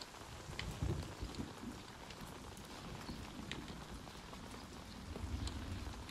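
Steady rain falls on a day when a woman is being walked home. A soft, close patter of drops spreads evenly over low rumbling, with no talking.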